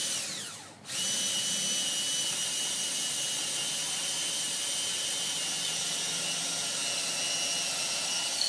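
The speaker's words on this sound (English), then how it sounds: "So let's drill this hole here" A power drill whines to life after a brief pause and runs continuously at high speed, loud and close, drilling a 5/16 hole in a cornhole board, with no voices.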